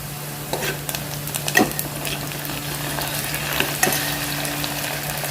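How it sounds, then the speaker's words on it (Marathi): A spoonful of ginger-garlic paste fries over onions in a pan for chicken curry, giving a steady close sizzle with a few spoon stirs and scrapes and no talking. "हा एवढा एक चमचा आले लसूणची पेस्ट आपण चांगली परतून घेणार आहोत"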